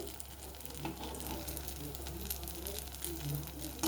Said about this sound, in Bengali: এইভাবে আমি প্রত্যেকটা ভেজে নেব